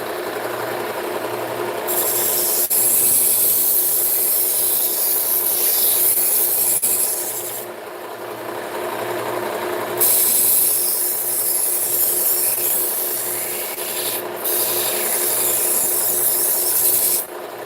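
A knife blade being sharpened with long, steady rasping strokes against a stone, running almost continuously with brief pauses between passes, close and fairly loud with no talking.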